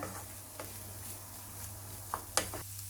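Shredded cabbage is stirred into a vegetable mixture frying in a pan for paratha filling. A soft, faint sizzle runs throughout, broken by a few light scrapes and clicks near the end.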